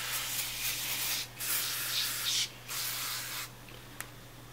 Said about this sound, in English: I'm just going to spray it all over the inside of the bag.